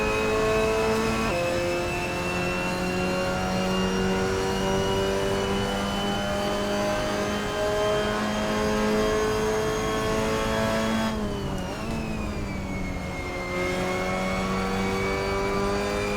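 Mazda MX-5 race car engine in Assetto Corsa at Watkins Glen, held at steady high revs with sustained rising and falling engine tones, a brief lift around the middle before pulling again, loud and continuous with no talk.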